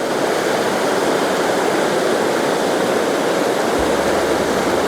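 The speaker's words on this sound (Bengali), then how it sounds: "কীভাবে জল এগিয়ে চলেছে" Steady, loud rush of a river flowing near Jagdalpur, Chhattisgarh, a continuous broadband roar with no pauses, heard close up and alone for the whole stretch.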